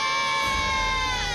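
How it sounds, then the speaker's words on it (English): Several cartoon characters scream together, loud and close, in one sustained shrill wail of voices as they plunge down an enormous waterfall; a low rumble builds beneath the cries. "Okay, let's keep screaming then."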